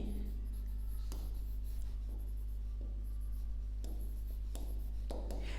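Steady scratching of writing on a board during a physics lesson, continuous strokes with brief pauses, fairly faint over a constant low hum of the room, with no one speaking.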